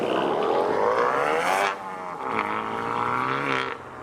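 A Mercedes SLK 55 pulls away from a car show, its engine roaring loudly nearby and climbing in pitch through the gears before easing off and building again as it drives off.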